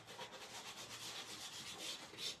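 A nail file rubs back and forth along paper edges for scrapbooking, giving a steady, close, soft scratchy rasp in repeated strokes with no talk.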